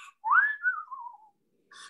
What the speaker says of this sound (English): then he put the whistle on it, Keith.